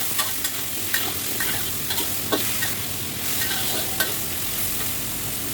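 Food sizzles steadily in a hot pan while a utensil scrapes and stirs in repeated strokes, close up and with no talking.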